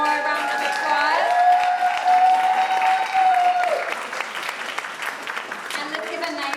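An audience at a school Black History Month show claps and cheers, steady and loud for several seconds, with a long held shout on top before the noise fades into lighter crowd chatter.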